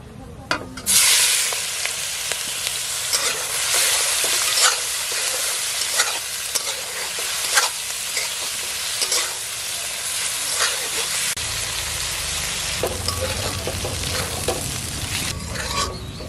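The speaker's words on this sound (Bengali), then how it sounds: "ভাজার জন্য চিংড়িগুলো দিয়ে দেবো" Prawns coated in turmeric and chilli fry in hot mustard oil in a wok, giving a loud, continuous sizzle with scraping stirs and spatters throughout, easing slightly toward the end.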